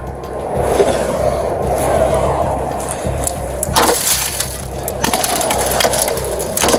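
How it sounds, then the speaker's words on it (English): Police break the tinted glass of a car window during a chase stop, giving loud crunching and cracking bursts over rumbling noise, with sharp impacts near the middle and end. "For their own safety, they are forced to break the glass."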